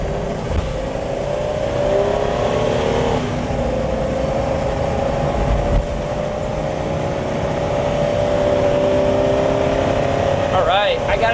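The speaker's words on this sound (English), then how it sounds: "We're on the entrance ramp to the highway, and I'm just gonna give it full throttle and show you what it's got." A 2004 Lexington 270G Class B motor home accelerates at full throttle up a highway entrance ramp, a continuous rising engine roar with shifting pitch heard from inside the cab, steady and fairly loud throughout.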